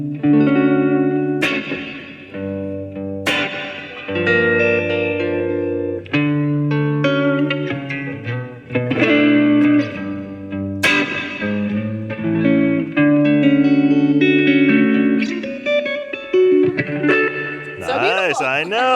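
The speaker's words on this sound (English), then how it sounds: "a bit of soulful reverb" Electric guitar through a JBL BandBox preset with soulful reverb, with sustained chords and single-note phrases ringing out, loud and close, a warbling bend near the end.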